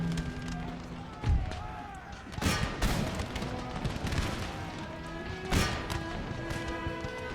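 Musket volleys crackle across an Empire: Total War battlefield, with sharp bursts of gunfire standing out over a dense, continuous din of combat, and a voice heard faintly in the mix.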